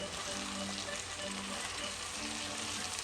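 Chicken basquaise with capsicums and tomato paste sizzles steadily in a hot pan, a dense continuous frying hiss with soft scraping as the mixture is stirred, close by and without talk.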